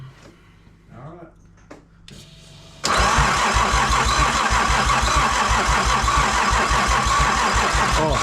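Nissan Skyline RB engine cranks and fires on its first start, settling into a loud steady idle after a quiet stretch of talk and clicks.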